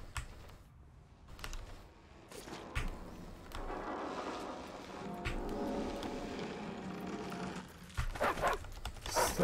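Dogs bark in the video game The Eternal Castle, a few sharp yaps scattered over a low, steady game ambience, fairly faint and intermittent with brief louder bursts near the end.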